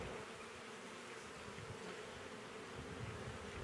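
Honey bees buzzing at the hive, a dense, steady drone of many wings close by that holds without a break, with no voices.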